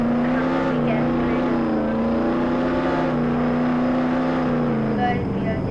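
A Lamborghini drives in the Roblox game Jailbreak, its engine a steady, sustained synthetic whine that holds level and dips slightly near the end.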